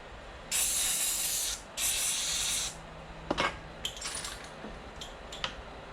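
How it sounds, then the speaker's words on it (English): Two strong, hissing bursts of compressed air blow debris out of an Aprilia Caponord motorcycle, followed by scattered light clicks and taps as bits settle, heard up close without talk. "Why are you turning the air compressor on? To blow out the rubbish."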